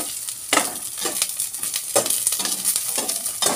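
Garlic and onion fry in a pan with a steady broadband sizzle, broken by repeated stirring scrapes roughly every half second, close and moderately loud with no talking.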